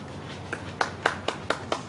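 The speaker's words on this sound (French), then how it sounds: "Applaudissez-vous." A small group claps after a fitness training session, about six separate, fairly quiet claps in an irregular rhythm over a hushed background, with no talking.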